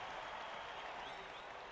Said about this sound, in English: Fans cheer for nothing.